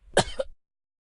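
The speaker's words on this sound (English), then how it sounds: "you have a cough reflex that kicks it right back out" A single short cough, close and sharp, lasting about half a second, then silence.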